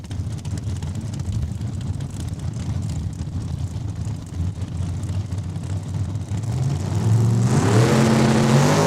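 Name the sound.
drag race cars accelerating, 67 Chevy II and 2016 Challenger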